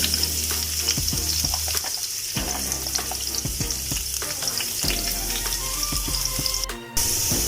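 Steady loud sizzling of garlic frying in hot oil in a pan, with occasional stirring scrapes and clinks throughout, then a brief pause near the end.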